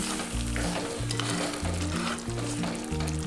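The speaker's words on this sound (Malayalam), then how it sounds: "ഇത് നന്നായി തിളച്ചിട്ടുണ്ട്." Steady bubbling hiss of a green peas curry simmering in a pan, with low musical tones playing underneath.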